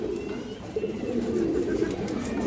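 Several pigeons of mixed fancy breeds coo together in a loft, a steady low murmur of overlapping calls held close and fairly loud throughout.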